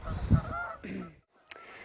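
Migrating geese honk in a quick burst of a few calls, heard outdoors in a spring garden, followed by a short pause and one faint later call.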